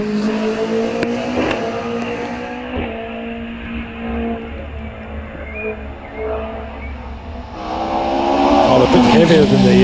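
A circuit-racing car, heavier than usual hillclimb machines, pulls away from the start line at a British Championship hillclimb at Doune, its engine droning steadily under ongoing commentary and rising to a loud, revving surge near the end.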